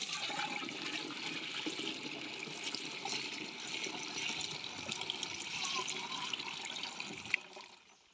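Water pours into a machine's tank in a steady, rushing stream, like a tap running or a toilet flushing. The sound is fairly faint, holds for several seconds, then tapers off near the end.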